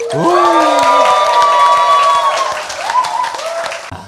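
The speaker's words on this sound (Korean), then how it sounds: "여러분의 힘찬 환호와 박수와 함께 시작하겠습니다" A studio audience at a Korean talk show bursts into cheering and clapping, loud and close, with a sustained bright tonal sound ringing through the first half before the applause tapers near the end.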